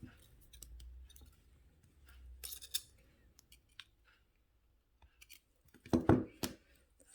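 Wire ends snipped off at both ends of a wire-wrapped moon pendant with cutters, giving sharp clicking snips, a couple of faint ones early and a louder cluster of close clicks near the end, with no talk.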